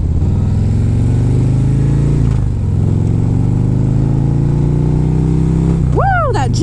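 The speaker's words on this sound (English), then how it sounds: "Jekyll and Hyde exhaust sounds so good." Motorcycle fitted with a Jekyll and Hyde valve-controlled exhaust, its engine droning steadily at cruising speed during a ride, loud and close, with a short rising rev near the end.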